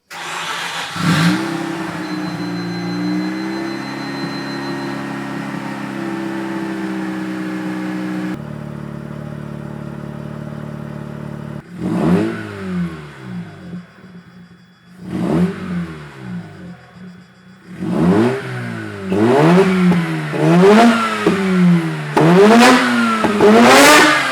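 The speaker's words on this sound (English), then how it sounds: "Now we can finally listen to the new exhaust." A Mazda RX-8 fitted with an Invidia Q300 exhaust idles with a steady hum, then is revved again and again, each rev climbing and falling, with the revs coming faster and louder toward the end.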